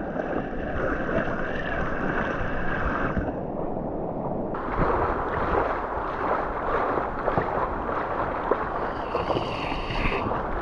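A boat is paddled through water, giving continuous splashing and sloshing with a dense, even wash of noise and some wind buffeting on the microphone. No voices are heard.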